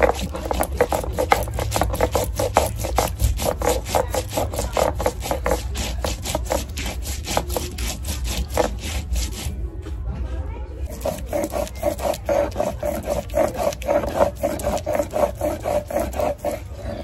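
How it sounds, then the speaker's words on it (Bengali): Ginger and cumin ground together on a stone grinding slab, a rapid rhythmic back-and-forth rasping scrape, close and steady, with a brief pause midway before the strokes resume. "নোটে শাকটা রান্না করার জন্য এখন একটু জিরে আর আদা বেটে নেবো একসঙ্গে"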